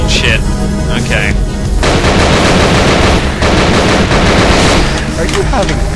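Loud, dense gunfire from the video game Nightmare House 2, rapid continuous bursts and heavy blasts filling the whole stretch, with a player's voice briefly audible over the shooting.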